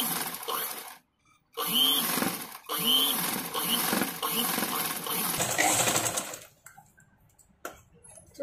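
An electric sewing machine stitches a blouse back neck design in bursts of rapid mechanical whirring and needle rattle, pausing briefly between runs, with a soft voice speaking at times.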